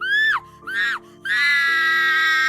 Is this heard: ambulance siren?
no